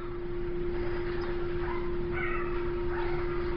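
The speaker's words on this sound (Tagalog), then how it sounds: "ang tuta umiyak" A puppy whimpers and cries in soft, uneven bursts over a steady background hum, fairly faint throughout.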